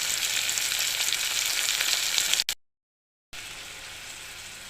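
Ingredients fry in a pan with oil for meal maker biryani, a bright steady sizzle that briefly cuts to silence before resuming at the same level.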